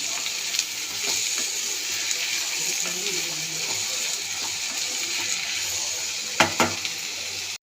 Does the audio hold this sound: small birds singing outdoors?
no